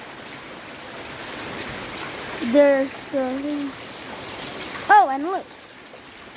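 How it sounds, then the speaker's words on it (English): Rain falls steadily on a rainy day among trees, a soft continuous hiss running throughout, while a person speaks a few short phrases over it. "when the rain drops, it makes a funny sound like that."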